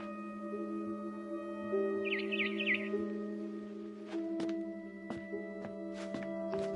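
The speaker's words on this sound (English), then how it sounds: "Then I heard chirping outside my window. It was a barn swallow going back to her nest." A barn swallow chirps in the video game What Remains of Edith Finch: a quick, quiet cluster of tweets partway through, set against sustained soft musical tones with a few sharp ticks later on.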